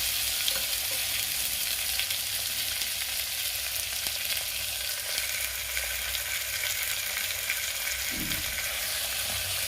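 Green peas fry in a hot pan as a steady, close sizzle with a faint crackle, continuous throughout with one brief low scrape near the end.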